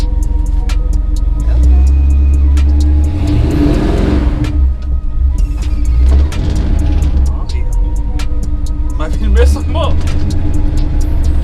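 A car with a transmission fault rumbles steadily on a test ride, a low engine drone with brief revving swells, heard from inside the cabin along with a voice talking and occasional sharp ticks.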